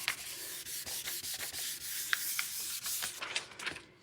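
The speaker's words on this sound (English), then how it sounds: "now I'm just taking the same side here and burnishing that transfer on there" Steady dry rubbing of a tool burnishing a transfer onto a wooden lazy Susan, a continuous scratchy swish in repeated short strokes, close and alone without talk.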